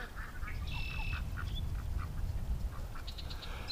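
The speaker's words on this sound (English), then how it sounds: "I can hear her quacking." An upset female duck quacks repeatedly by a creek, a run of short nasal calls close by, followed by a few more quacks against a steady outdoor background hum.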